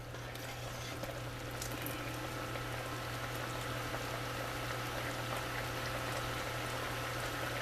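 A pot of rhubarb jelly boils over steadily, bubbling and popping continuously at close range with a constant low hum behind it.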